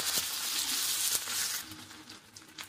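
Chopped onion and potato fry in hot oil in a pan, giving a steady, close, bright sizzle that runs the whole time with a few soft stirring knocks and a louder clatter at the end.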